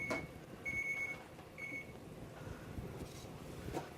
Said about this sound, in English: Our chef alarm is sounding.